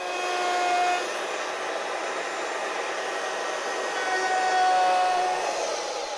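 A router fitted with a bearing-guided bit cuts along the edge of an old wooden window frame, giving a steady, loud, high-pitched motor whine that holds for several seconds with slight swells in intensity.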